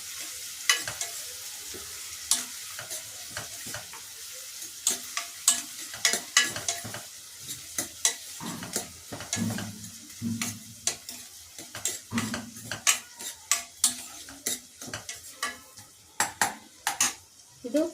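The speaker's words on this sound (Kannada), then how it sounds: "ಇಷ್ಟು ಚೆನ್ನಾಗಿ ಈರುಳ್ಳಿನ ಚೆನ್ನಾಗಿ ಫ್ರೈ ಮಾಡಬೇಕು." Onions fry in a pan for a Naati style chicken fry, with a constant sizzle under frequent sharp scrapes and clinks of a spoon stirring against the metal, close and busy throughout.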